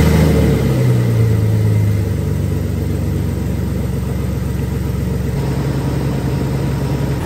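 Jeep Cherokee XJ engine idling with a steady loud drone, its pitch shifting as it revs and settles during a radiator coolant refill, a constant high whine running over the engine throughout.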